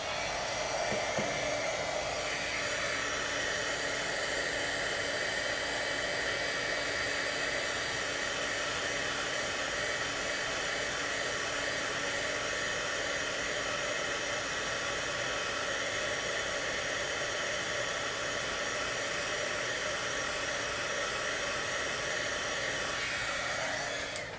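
A heat tool blows steadily to melt embossing powder on a Christmas gift tag, a continuous loud whirring hiss holding for the whole stretch with no talking over it.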